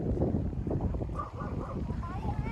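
A dog gives a few short, faint yips or barks at a distance in a coastal area at low tide, mixed in with background noise and people talking.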